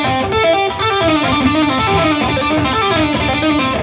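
Distorted electric guitar playing a fast tapping and pull-off sequence, a continuous stream of rapid articulated notes, loud and close with no voices.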